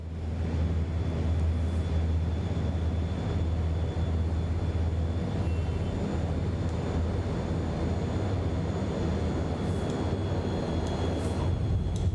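Inibuilds NAMC YS-11 turboprop airliner on final approach to land in MSFS 2024 with the throttle cut back, giving a steady low engine drone and cabin rumble, constant and loud, with no talk.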